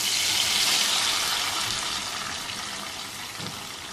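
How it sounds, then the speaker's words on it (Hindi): A quarter cup of cooking oil pours into a pot for Lahori chicken karahi, a steady liquid gush and hiss that starts loud and gently tapers over a few seconds, with no talking. "एक चौथाई प्याली तेल की डालेंगे।"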